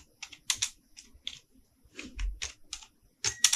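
Clicky bursts of typing on a computer keyboard as a name is entered into a document, short clustered keystrokes with brief pauses, close and clear, no speech.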